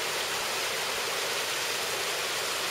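Waterfall on Ben Nevis at low flow, a steady broadband rush of falling water, fairly soft and continuous with no voices.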